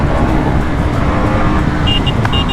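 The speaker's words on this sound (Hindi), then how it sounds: "इसकी ड्यूक 250 वाले के साथ रेस लग गई है" A KTM Duke 250 motorcycle races on the road, its engine a loud, steady roar with rushing wind noise and passing traffic close to the rider, plus a few brief high beeps near the end.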